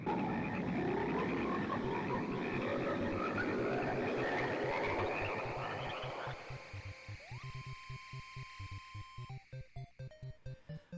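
Frogs croaking in the 1972 horror film Frogs, a dense chorus of rapid overlapping croaks that thins out into sparse rhythmic pulses alongside a steady electronic tone, heard without any talk.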